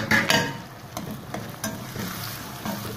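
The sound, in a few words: tomato and green chillies frying in oil with ginger-garlic paste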